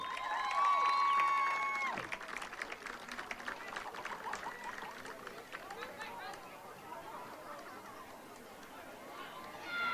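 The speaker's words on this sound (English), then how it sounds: "A big round of applause for Prince Bryce Rowe and Princess Cadence Garrison" A crowd in the stands at a high school football game between Eastmont and Moses Lake applauds for the royal court, a fairly faint, distant patter of clapping and cheering with voices mixed in.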